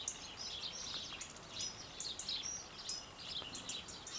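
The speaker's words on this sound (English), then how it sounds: "So you can hear the birds singing away, very joyous." Several birds chirp and trill in bright, overlapping bursts against a soft hiss of outdoor background, fairly close and continuous.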